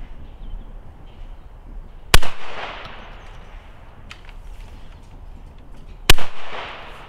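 A Browning Maxus II semi-automatic shotgun chambered for 3.5-inch shells fires light 21 gram cartridges outdoors, two loud sharp reports about four seconds apart, each trailed by a brief echo, with faint mechanical clicks between and no talk.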